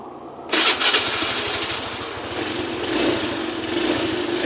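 A motorcycle with a keyless ignition and kill switch cranks briefly and fires into a loud, steady idle that runs close by without any talk.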